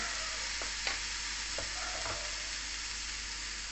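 Cauliflower frying in a pan for a ginger and green chili curry, a steady loud sizzle running throughout with a few faint stirring scrapes.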